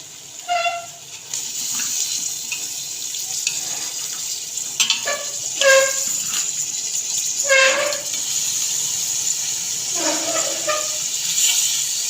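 Steady frying sizzle with wet crackle as beef fries in a karahi pot throughout, punctuated by a few clanks and scrapes of stirring.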